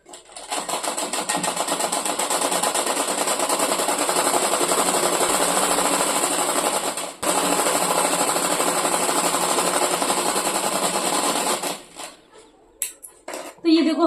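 A sewing machine stitches skirt panels together in a loud, rapid, continuous chatter for about twelve seconds, pausing briefly midway, followed by a few scattered handling clicks as it stops.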